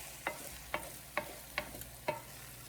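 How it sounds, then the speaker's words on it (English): Jollof rice cooked with butter is stirred in a pot to scrape up the burnt bottom, five evenly spaced scraping strokes over a faint sizzle, close and quiet with no talking. "I'm going to try and mix in all the burnt parts"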